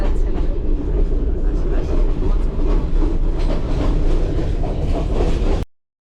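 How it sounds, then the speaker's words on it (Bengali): A train climbs through clouds on a Sri Lankan mountain railway, its loud, steady rumble and clatter filling the scene before cutting off abruptly. "এখন এই যে মেঘের মধ্য দিয়ে যাচ্ছে আমাদের ট্রেন"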